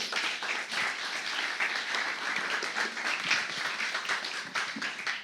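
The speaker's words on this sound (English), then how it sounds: "So big round of applause to them, please." Audience applause for five panelists walking on stage at a WEF panel discussion, a dense, steady wash of many hands clapping throughout, loud and continuous with no talk over it.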